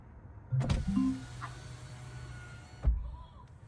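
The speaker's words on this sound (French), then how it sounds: "on l'active en disant Hé Renault, ouvre les fenêtres s'il te plaît." A voice-controlled electric window on a new Renault 5 E-Tech Techno whirs as it opens, starting with a clunk, a short rising motor hum, then a steady glide that ends in a firm thump as it stops.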